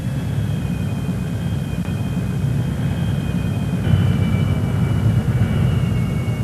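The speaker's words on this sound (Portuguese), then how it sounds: "a instrução se concentrava apenas nas manias do trem de pouso triciclo e na natureza temperamental dos motores a jato" Steady roar and rumble of Messerschmitt 262 jet engines, continuous and fairly loud throughout, with a faint high whine running over the broadband rush.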